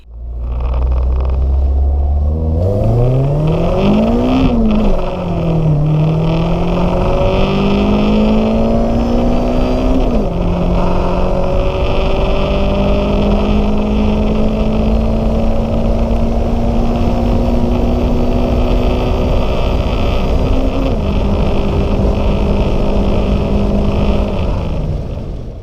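Supercharged car accelerating hard through several gears, engine pitch climbing steadily then dropping at each shift, loud and continuous with whine-like tones and no talking.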